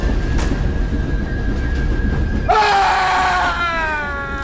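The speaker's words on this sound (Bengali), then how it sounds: "হঠাৎ শুনতে পেলাম বগির ভেতর থেকে আর্তনাদ ভেসে আসছে।" A loud wailing scream from inside a train carriage, rising sharply and trailing off in wavering cries over the low, steady rumble of the moving train.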